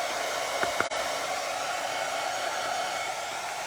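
A hair dryer blows steadily and loudly, drying paint on a faux ceramic pumpkin, with a couple of faint taps and a brief dip near the start.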